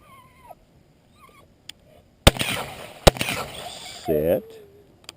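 Two sharp, loud gunshot cracks a second apart during retriever dog training with a dog named Duke, followed by a short burst of a voice, with faint whistle-like tones earlier.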